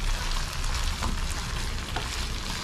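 A pan of bream fish curry with coriander is being stirred, giving a steady, dense sizzling hiss throughout with a few soft scraping accents.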